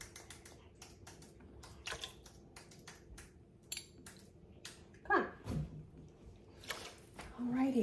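Light keyboard typing in a home kitchen, soft irregular clicks and taps close by, with a few louder knocks and clatters and some quiet voices in the background.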